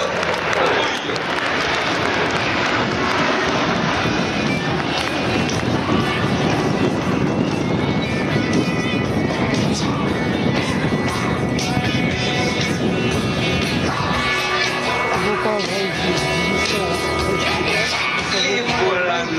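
Fighter jets of the Patrouille de France roar steadily overhead at the Le Bourget 2013 air show, a loud continuous engine rush with crowd noise and a faint announcer voice underneath.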